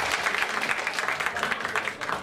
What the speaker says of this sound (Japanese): 拍手ください。